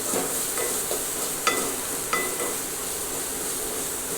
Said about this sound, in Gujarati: તેને પણ બરાબર મિક્સ કરી અને સાથે હલાવી લેશું